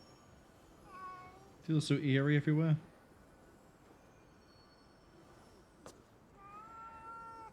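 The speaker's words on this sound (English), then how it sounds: "We have a friendly cat." A friendly cat meows a few times in Ghostwire: Tokyo, one clear, loud, wavering call standing out over a quiet eerie ambience, with a voice talking briefly before and after.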